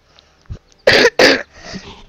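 A child coughs twice in quick harsh bursts at home, loud and close, with softer breathy noises and throat sounds before and after.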